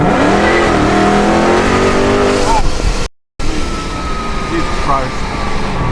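Dodge 426 Hemi muscle car engine revving and accelerating hard, recorded from the window: a loud, roaring engine that climbs in pitch, cuts out for a brief dropout, then carries on with tyre noise and rumble.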